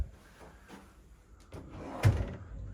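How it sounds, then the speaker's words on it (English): Two closet doors opening in a Crockfords East hotel room at Resorts World Las Vegas, heard as soft wooden clicks and a louder thump near the end, close by in a quiet room. "2 opening up closets on this side"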